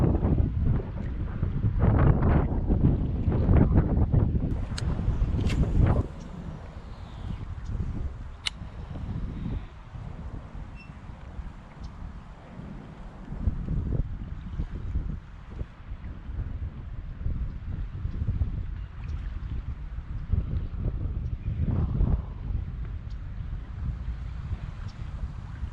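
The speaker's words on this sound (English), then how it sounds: "Really wish it wasn't so windy." Strong gusty wind buffets the microphone on a bass fishing outing from a boat, with heavy low rumbles that swell and ease in irregular waves, plus scattered light knocks and clicks, and no talking.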